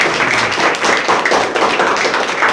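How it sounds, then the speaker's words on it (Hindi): A group of schoolgirls at a village government school claps together, a dense, steady patter of hand claps lasting a couple of seconds, close and fairly loud. "और एक बार अपने लिए तालियां बजाए"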